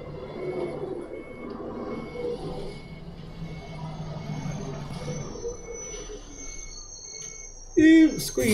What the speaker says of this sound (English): Squeaky brakes.